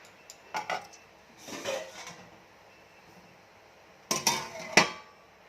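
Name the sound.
lid being placed on a cooking pot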